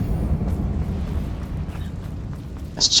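A Confringo fire spell in Hogwarts Legacy gives a sustained rumbling roar of fire and explosion, low and dense throughout, ending in a brief bright crackle.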